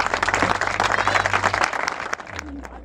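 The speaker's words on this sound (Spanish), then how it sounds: "Fuerte el aplauso." Applause from the audience at an award ceremony, a loud dense burst of many clapping hands with crowd voices mixed in, fading out after about two seconds.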